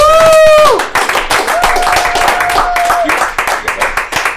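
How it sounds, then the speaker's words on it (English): An audience at a live comedy show applauds a comedian with steady, dense clapping throughout, while a voice and a brief tone sound over the applause. "give him a round of applause"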